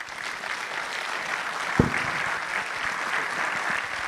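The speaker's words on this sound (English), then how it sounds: "Please, an applause for it." An audience gives steady, even applause at the close of a lecture by a U.S. Naval War College professor, dense moderate clapping throughout with one sharp louder clap standing out near the middle.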